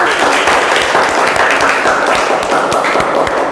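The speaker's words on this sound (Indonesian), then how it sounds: "Kasih tepuk tangan dong." A classroom group claps in dense, steady applause, close and loud, lasting a few seconds with no pause.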